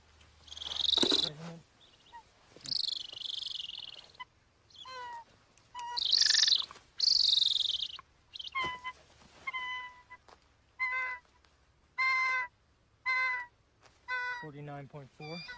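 A trapped bird of prey, a male, is handled for tagging in the wild and gives a series of loud, close, sharp calls and squeals in irregular bursts.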